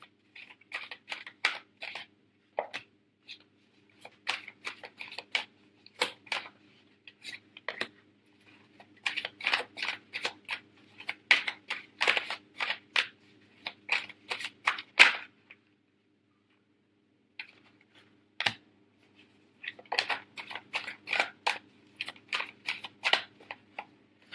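Tarot cards being shuffled produce repeated bursts of crisp, close flicking and slapping, separated by short pauses, with no talking.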